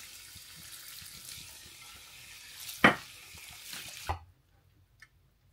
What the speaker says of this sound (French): Je vais venir vider le récipient,